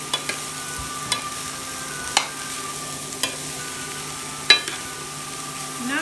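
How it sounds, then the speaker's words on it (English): A spoon breaks up and stirs cauliflower rice in a hot pan for keto aromatic rice, giving close, sharp scrapes and taps roughly once a second over a steady low sizzle and faint hum, with no talking. "You can go ahead and break it down with your spoon."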